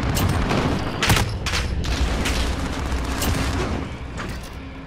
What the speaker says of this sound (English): We're taking some fire.